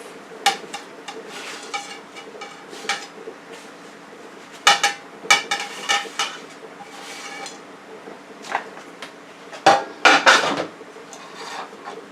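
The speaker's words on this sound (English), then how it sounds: "Let me put that on another plate for your viewing" Fried butternut squash croquettes are moved onto a plate, with scattered scrapes, taps and clinks of utensils on dishware, some louder knocks, close by and without talking.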